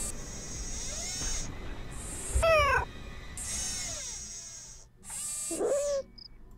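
A cat in the Nancy Drew: Shadow at the Water's Edge video game meows twice, clear and close, between bursts of electronic game tones.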